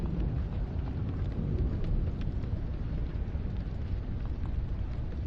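Rolling thunder and steady rain from a thunderstorm in Subnautica, a broad low rumble holding fairly evenly throughout with no pauses, moderately loud and unaccompanied by voices.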